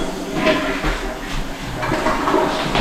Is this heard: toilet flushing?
yes